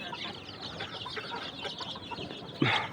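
A flock of about fifty native chicken chicks cluck and peep steadily while feeding on wet starter feed, with one louder, sharper call near the end.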